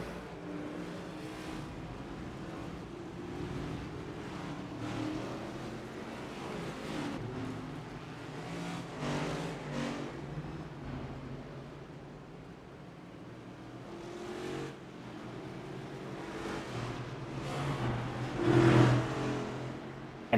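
A field of NASCAR stock cars roars off pit road onto the Daytona International Speedway in the iRacing sim, a dense, continuous engine drone with swelling passes, surging louder near the end.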